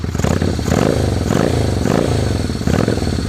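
Honda Steed 400 bobber motorcycle engine idling close by, given a few gentle throttle blips that swell and settle in a smooth, rhythmic, low-pitched rumble with a light mechanical clatter.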